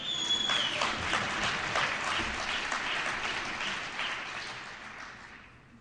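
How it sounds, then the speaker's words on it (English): Sustained applause from an audience, many hands clapping steadily and loudly, tapering off slightly toward the end. "you should clap for that"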